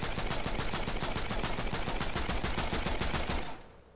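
Primal Rifle fire in Fortnite Save the World: a steady, rapid automatic burst of evenly spaced shots pounds continuously for about three and a half seconds, then cuts off abruptly, with no talking.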